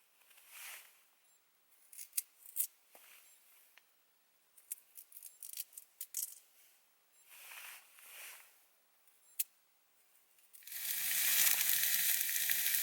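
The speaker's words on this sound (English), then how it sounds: "Just fired the steak on." A steak sizzles in a pan on a G-Stove wood stove inside a winter hot tent, first in soft bursts with scraping and clinks, then a loud, steady frying hiss near the end.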